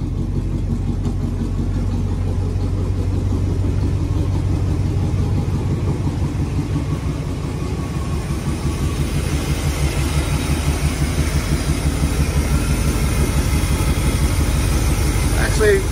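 A John Deere riding mower engine, just started after a dry fuel filter, running steadily with a close, low rumbling idle throughout.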